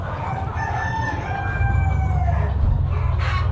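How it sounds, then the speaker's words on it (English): Several roosters crowing at an animal sale, long rising cock-a-doodle-doo calls that overlap and carry over a rumbling background of farm noise, loud and fairly close with one crow following another. "Cool little roosters."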